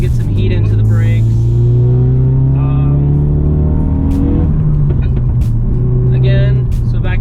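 Ford Focus RS fitted with new carbon Geomet brakes, accelerating hard and then slowing during repeated brake bed-in runs, loud close engine drone rising and falling in pitch with a shift, a person talking over it.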